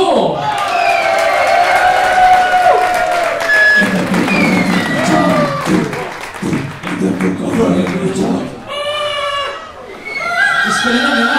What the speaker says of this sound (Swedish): en riktigt varm applåd för den oefterhärmelige hårdrocksikonen från Hisingen